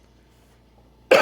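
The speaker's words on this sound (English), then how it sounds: "Sorry for coughing." A single sharp cough bursts out at the very end after a near-silent stretch, close and fairly loud.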